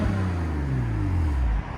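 The twin-turbo 3.0-litre inline-six exhaust of a 2019 BMW M2 Competition with Valvetronic valves revs loudly up close, a deep rising drone that drops off abruptly at the end, with no talking.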